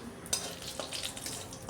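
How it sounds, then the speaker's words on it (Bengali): Whole cumin seeds fry in hot mustard oil in a pan, giving a faint, steady sizzle with soft crackles and a light stir or scrape, no voices. "জিরেটা একটু ভাজা ভাজা করে নিয়ে"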